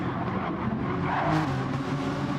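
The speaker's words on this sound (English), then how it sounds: "I'm hearing a lot of tyres squealing into the final turn" Race cars in a sprint race at Sardegna, engines roaring steadily as they push through a turn, with squealing tyres blended into the continuous loud motor noise.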